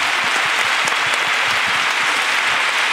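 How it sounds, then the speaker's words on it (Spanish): Steady applause from a live podcast audience, dense and continuous throughout with no voices over it. "Aplauso para la ruina de Esti"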